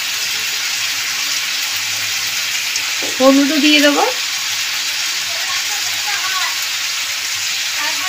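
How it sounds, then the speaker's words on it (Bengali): Vegetables sizzle and fry steadily in a pan while a spoon stirs them, a continuous crackling hiss throughout, with a brief spoken remark in the middle. "দিয়ে ভালো করে নাড়িয়ে নেব সবজিগুলোকে"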